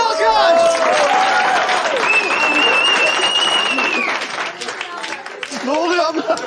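Audience applause and cheering on a Turkish comedy talk show, a loud, dense burst of clapping with crowd noise filling the studio, under and around a host's lively talk.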